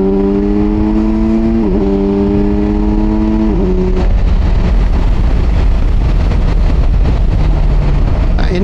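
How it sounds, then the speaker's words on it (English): A Kawasaki Versys 1000 SE GT inline-four motorcycle engine, loud and close, holds a steady idle hum with two quick rises in pitch, then revs into a rougher, harsher roar that holds for several seconds. "Let's have some rev, shall we?"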